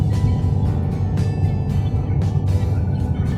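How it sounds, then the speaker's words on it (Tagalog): Car engine labours uphill on a steep road near San Jose, Antipolo, a steady loud rumbling drone with faint intermittent higher noises, heard from inside the vehicle without speech. "Hirap na hirap yung sasakyan."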